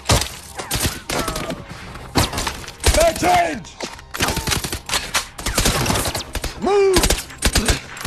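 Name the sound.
gunfire shootout in a movie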